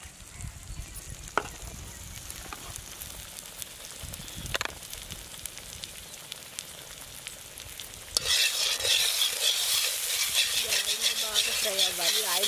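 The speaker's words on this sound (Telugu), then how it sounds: "ఫ్రై అవ్వాలి, ఆయిల్లో బాగా ఫ్రై అవ్వాలి." Pomfret fish masala frying and being stirred in hot oil in an Andhra-style kitchen, a steady loud sizzle with scraping stirs, growing fiercer and brighter partway through.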